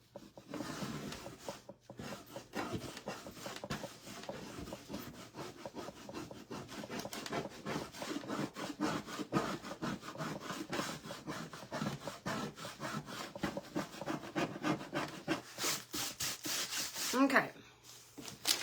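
Steady scraping on wood during a banjo build, a dense run of rasping strokes that goes on almost without a break, close and fairly quiet, with a louder burst near the end.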